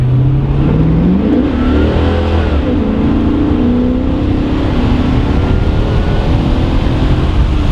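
A quick car accelerates hard on the road near 70 mph, its engine note climbing and shifting through gears in a loud, sustained roar heard from inside the cabin.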